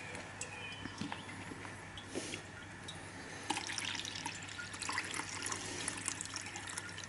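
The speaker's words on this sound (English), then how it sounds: "so all I'm doing is pouring the liquid in" Copper chloride solution being poured into a filter funnel while recovering gold from gold-plated ribbon wire gives a steady, faint trickle with small drips and splashes, mostly alone.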